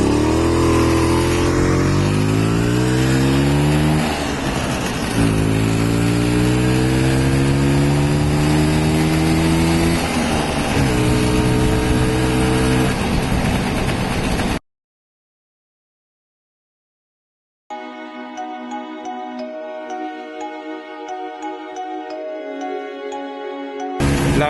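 Engine of a classic Volvo P1800 racing against a Vespa at the Classicauto Madrid show, revving up through the gears in long rising sweeps, loud and close, then cutting out briefly before droning steadily again.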